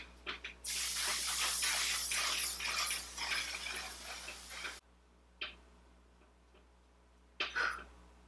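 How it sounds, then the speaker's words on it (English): A long continuous hiss of a makeup setting spray bottle misting for several seconds, followed by quiet and a couple of short spritzes. "Final step is no surprise, the One Size setting spray."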